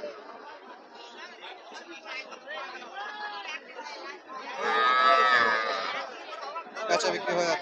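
Sahiwal cattle at a busy cattle market in Joypurhat: scattered moos rise, with one long, loud moo in the middle, over steady crowd chatter and people talking nearby.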